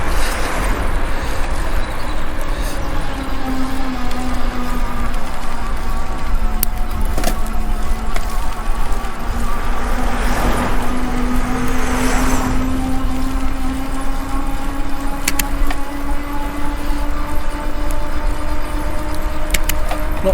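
A car approaches and passes on a road near a rider on an ENGWE EP2 electric bike, its steady engine and tire hum rising and sliding in pitch through a long drawn-out pass over constant road noise.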